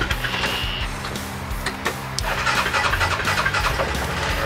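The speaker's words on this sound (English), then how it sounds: "Our EFI Rhino fires up." A Yamaha Rhino with EFI and no battery, powered by a crank power supply, cranks over with rapid chugging starter bursts and then fires up into a running engine, close and loud.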